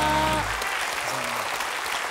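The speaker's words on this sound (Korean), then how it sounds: "다시 한번 박수 부탁드리겠습니다" A studio audience at a Korean variety competition show applauds after judges' scores are announced, steady clapping that follows a fading musical sting at the start.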